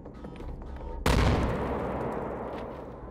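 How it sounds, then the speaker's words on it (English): A grenade explodes in Wolfenstein II: The New Colossus on Nintendo Switch, a single sudden loud boom cutting through low game ambience and then a long rumbling decay that fades slowly. "Just a grenade went off."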